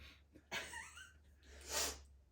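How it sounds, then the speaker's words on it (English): A couple of close, breathy nasal sniffs into a microphone, with quiet voice-like murmurs between them. "I didn't mean to sniffle into the microphone"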